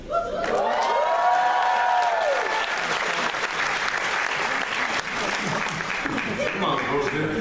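A dense wave of audience applause and cheering at a leadership talk, loud and sustained for several seconds, with whoops and a rising shout near the start and crowd noise throughout.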